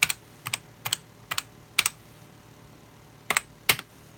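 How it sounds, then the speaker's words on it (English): Rubber dome computer keyboard being typed on in short clustered bursts of a few keystrokes, with pauses between them, close and fairly crisp in a quiet room. "Yeah, check out my lovely keyboard."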